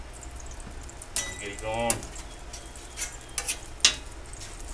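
Oil hits a heated Blackstone griddle and sizzles in short, bright bursts, with a few louder crackles toward the end and someone speaking briefly.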